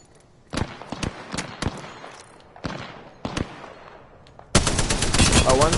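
Gunfire in the Apex Legends video game: scattered sharp single shots and short bursts crack through the first seconds, then a sustained loud rapid automatic burst closes the clip, with faint voices in between.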